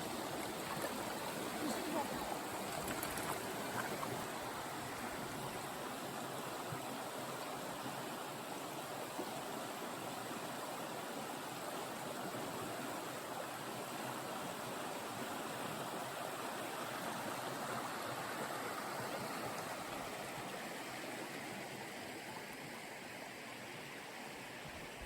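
A shallow creek on a Florida hiking trail flows with a steady, soft, even rush, continuous and unbroken, with no voices.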